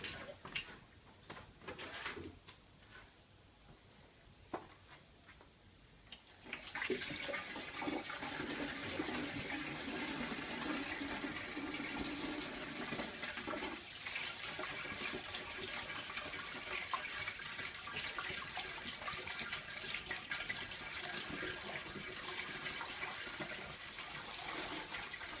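Cold water pours steadily into a vessel of homebrew wort for a Citra pale ale, a loud continuous gushing rush that starts abruptly after a few quieter seconds of handling clatter and runs on unbroken to the end.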